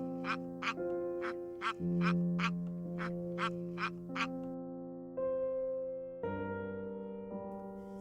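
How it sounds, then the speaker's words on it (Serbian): Ducks by a stream quack about ten times in quick, evenly spaced bursts over sustained music tones, then the quacking stops while the music carries on. "patke su bile bučne i kvakale bez prestanka"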